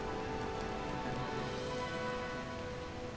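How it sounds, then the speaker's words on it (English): Steady rain falling in the Xenoblade Chronicles 2 video game, a dense continuous patter of drops on surfaces, even and unbroken throughout, with faint tonal game music underneath. "And it's raining."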